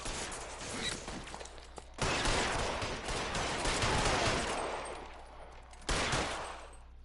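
Video game gunfire in LA Noire comes as dense, rapid volleys of shots that swell and fade in three rough waves, fairly faint and without talking.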